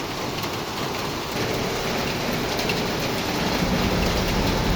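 Steady heavy rain pours down outdoors at a drop zone, a dense continuous hiss of falling water that stays loud and even throughout, with no voices heard.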